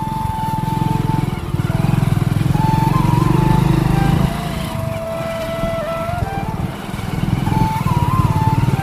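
A motorcycle rides fast along a village road, its engine droning loud and close with pitch rising and falling as it shifts, the revs easing midway and then climbing again.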